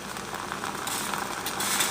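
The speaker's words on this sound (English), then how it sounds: "Now it's going to start sputtering and spitting." A coffee maker brewing Kicking Horse Kick Ass coffee sputters and spits, giving a steady, close hiss of steam and water that grows slightly louder toward the end.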